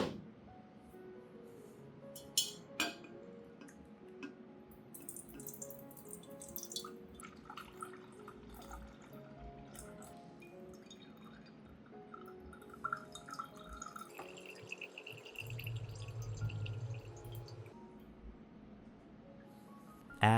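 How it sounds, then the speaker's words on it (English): Aloe gel solution strained through a sieve, with faint, scattered drips and trickles of liquid falling into a container, quiet and intermittent over a long stretch. "I'll strain the solution through a sieve to remove all coarse fibers"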